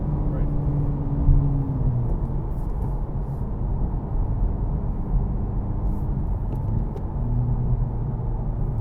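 Steady engine rumble of a 2025 Acura Integra Type S with a six-speed manual, heard from inside the cabin as it accelerates and revs higher, a continuous drone under intermittent voices.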